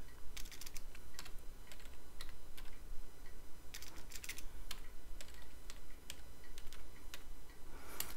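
Fingers tap out a password on a computer keyboard at a Linux terminal, a close series of quick irregular key clicks in short bursts, with no speech.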